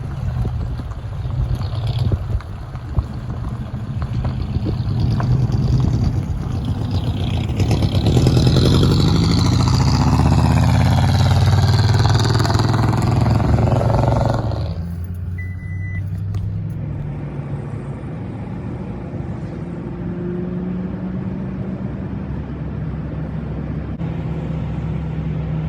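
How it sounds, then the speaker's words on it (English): A 1950 Ford flathead V8 on straight pipes, running a little rich, drones steadily and loudly for the whole stretch, swelling louder through the middle before settling back to a lower rumble under wind noise, with no talking. "straight pipes in a flathead"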